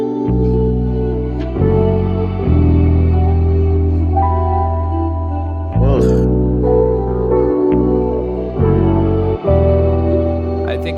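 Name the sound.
vocals with H-Delay and Valhalla Vintage Verb reverb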